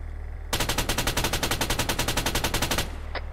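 Coaxial machine gun on a vehicle in ARMA 3 fires one sustained, rapid, evenly spaced burst of about two and a half seconds, loud and close, then cuts off into quiet background.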